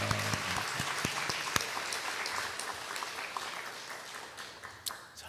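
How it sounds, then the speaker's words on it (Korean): Church congregation clapping to welcome visiting worshippers during a Sunday service, a full roomy burst of many hands with sharp individual claps, gradually thinning toward the end. "자, 우리 환영하는 박수 하겠습니다."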